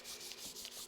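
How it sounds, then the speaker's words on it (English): Dry hand sanding of a car part with 400 grit paper, a close, steady scratchy rubbing in quick back-and-forth strokes with a brief rhythmic pulse, no voices. "I'm just scuffing this one here up. Just using 400 grit"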